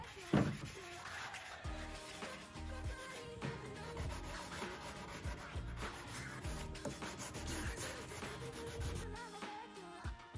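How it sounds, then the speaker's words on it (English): Power sander scuff sanding a wooden dresser before primer and paint, a continuous rough rubbing grind with shifting pressure and pitch, close and fairly quiet, with no speech over it. "I decided to give the rest of the dresser a quick scuff sand while I have the sander out."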